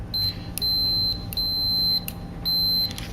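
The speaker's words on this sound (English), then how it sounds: "This one's even a fancy one that makes a little beep when there's continuity" A fancy multimeter gives short, high continuity beeps while wires for an OpenROV E-Chassis battery lead are tested, several clear tones in an uneven rhythm, each lasting about half a second, close and alone over a faint background hum.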